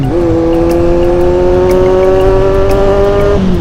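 A Kawasaki Z800 motorcycle fitted with an SC Project exhaust holding a loud, steady high rev close by, a strong droning engine note that drops off sharply near the end.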